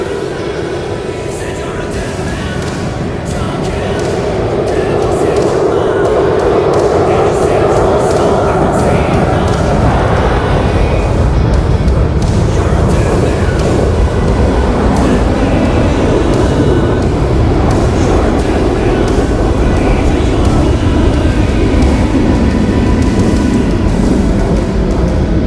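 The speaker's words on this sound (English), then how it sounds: "Speaker will maneuver in a series of evasive turns to defeat enemy SAMs and AAA" An F-15E Strike Eagle roars through an airshow demonstration at the Dubai Airshow, a loud, broad jet rumble that swells after a few seconds and then holds steady and close.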